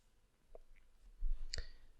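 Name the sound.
computer mouse clicking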